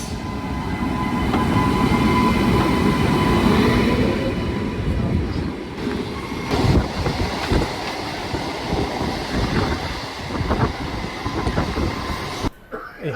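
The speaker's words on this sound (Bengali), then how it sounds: "এই হাওড়া থেকে যাচ্ছি এই লোকাল ট্রেনে বর্ধমান অবধি।" A local commuter train runs from Howrah toward Bardhaman, giving a steady loud rumble that lasts the whole stretch, with irregular rattles and clacks of the carriage breaking through over it and a brief drop near the end.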